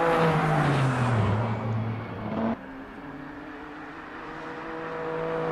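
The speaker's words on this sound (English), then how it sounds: "there's not much of an issue on the car based on the car noises" Racing game GT3 car engine at Sportsland SUGO, a loud sustained drone with a falling pitch over the first half, then a steadier lower hum after a shift, continuous and close.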